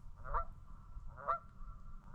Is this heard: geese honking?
yes